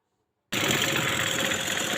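Sewing machine stitching a princess-cut blouse, starting abruptly after a moment of silence and then running at a steady, even whirring pace.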